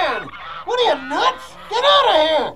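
Several geese honk loudly nearby, drawn-out nasal calls coming in three or four bursts.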